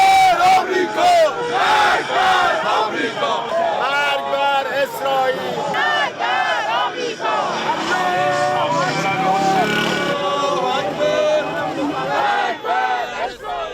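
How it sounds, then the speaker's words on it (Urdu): Crowd in Iran chants anti-American slogans, many voices shouting in rhythmic unison, loud and close, with repeated rising and falling cries carrying on without pause. "مخالف نعرے بھی لگائے"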